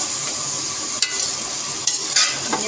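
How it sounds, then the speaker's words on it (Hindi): Chicken feet fry in leftover oil, making a constant bright sizzle with a few brief knocks and scrapes as they are moved in the pan. "इसी ऑयल में मैं पंजे फ्राई कर लूँगी"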